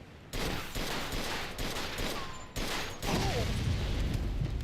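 Gunfire in the video game Mafia II: a loud, sustained fusillade of rapid shots with short breaks between bursts, up close and with no talk.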